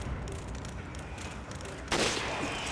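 Gunfire and an incendiary grenade blast in the video game Resident Evil 5, a steady crackle of shots followed by a sudden loud burst near the end.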